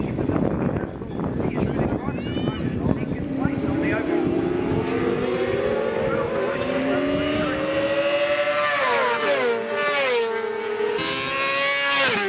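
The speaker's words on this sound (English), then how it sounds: "Quite a long straight. Apparently the bikes get up to about 280, the larger capacity bikes." Racing motorcycles at a New Zealand Superbike meeting scream down a long straight, engine notes rising and shifting as bikes pass close by, loud and continuous, with a voice speaking over the noise.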